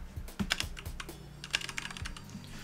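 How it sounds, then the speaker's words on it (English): Rapid, uneven keystrokes on a computer keyboard, close and clear, with a few louder taps mixed into a steady clatter. "you just press spacebar and you start typing set scale."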